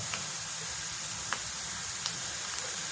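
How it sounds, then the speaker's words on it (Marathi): Semolina and gram flour dry-roasting in a pan over a full gas flame, a steady soft sizzling hiss with a few faint scraping ticks, close and without speech. "पहा आपलं कसं भाजलं जात आहे."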